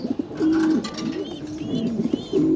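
Pigeons, a Tiger Grizzle cock and its hen sitting on eggs, coo close by in repeated throaty rolling phrases with short pauses, plus a few soft higher chirps.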